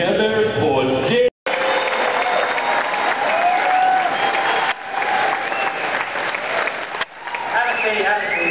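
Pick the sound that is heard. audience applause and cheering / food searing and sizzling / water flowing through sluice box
audience applause and cheering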